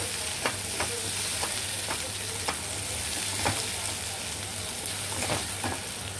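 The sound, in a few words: kokum added to sizzling pan while cooking sukat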